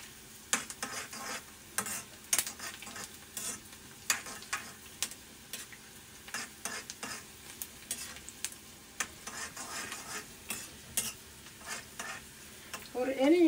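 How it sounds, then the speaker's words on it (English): Onions browning in a pan for mango curry hiss with a steady close sizzle, broken by frequent sharp scrapes and taps as a spoon stirs them throughout. "it will take a few minutes to get the onions browned"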